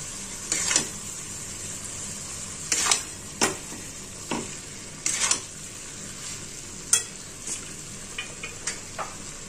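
Spaghetti being tossed with vegetables in a pan for pesto pasta, a series of separate scraping and clattering strokes against a faint sizzle, spaced irregularly.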